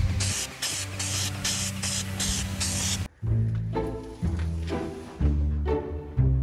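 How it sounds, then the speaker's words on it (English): A spray can paints a rusty van, giving bursts of loud close hissing, several short sprays followed by a pause and a few longer spurts. "Now it's time for a little bit of the painting the spray can here."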